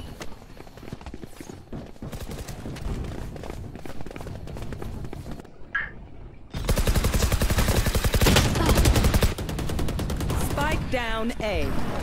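Rapid gunfire from the Valorant video game during a live tournament, dense bursts of shots filling the mix loudly and continuously, with a brief quiet gap midway and no voices.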